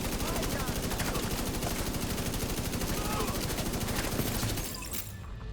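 Rapid, sustained automatic gunfire in the video game Division 2 rattles continuously up close, then cuts off and leaves a quieter tail.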